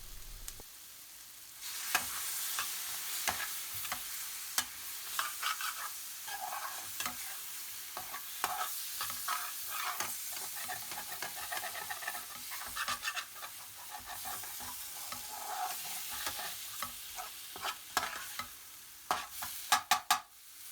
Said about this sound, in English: Add the meat and a little more base gravy and cook for another 30 seconds.